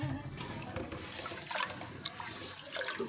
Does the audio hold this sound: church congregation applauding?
no